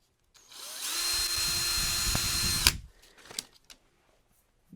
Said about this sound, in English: Come in there with appropriate size drill